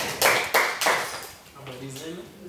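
Applause from a party crowd as a camera operator is introduced by name: three sharp bursts of clapping, then a voice begins speaking over the fading claps.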